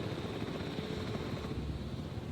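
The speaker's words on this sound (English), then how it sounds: "Please stand by for the returning helicopter." A video-game helicopter thrums steadily with a low, even rotor drone at moderate distance and no voices, arriving at a dinosaur park in Paleo Paradise.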